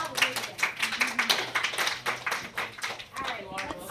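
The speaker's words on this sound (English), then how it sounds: "Did we give them a final round of applause?" Classroom group clapping after a co-taught lesson, a loose run of individual claps of varying strength from a small audience, with voices talking over it.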